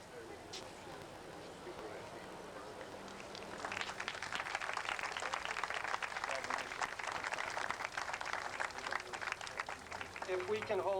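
An audience at an outdoor park dedication awards ceremony breaks into sustained applause, a dense crackle of many hands clapping that swells and continues for several seconds, with faint talk before it starts.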